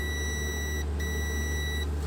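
Continuity buzzer on a multimeter tester beeps as a steady high tone, cutting out briefly near the middle and again at the end, over a constant low hum while checking an integrated amplifier's 3K resistor.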